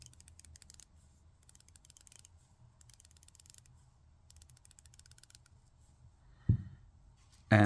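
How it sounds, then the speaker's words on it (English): A Seiko dive watch bezel turned by hand, giving three bursts of quick, faint ratcheting clicks separated by pauses, close up and without talk, before a louder knock near the end. "I'm going to turn the bezel."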